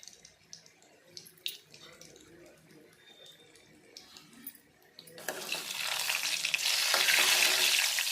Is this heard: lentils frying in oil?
yes